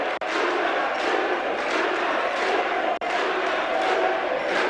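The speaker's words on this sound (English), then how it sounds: "they got the crowds chanting with the first few correct answers to the true-false questions" A crowd at a quiz contest chants and cheers loudly, a dense roar of many voices close and sustained, broken by two short dropouts.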